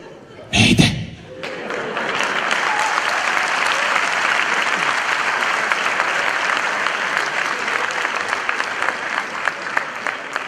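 A sharp thump opens the sound, then a theatre audience breaks into loud, sustained applause that carries on steadily to the end, dense clapping from many hands.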